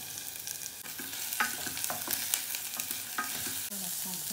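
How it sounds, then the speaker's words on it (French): Spring onion whites and carrots sizzle in a hot pan as they are stirred, a steady close frying hiss broken by scraping clicks of the utensil, with no talking. "Faire revenir les oignons nouveaux, blancs."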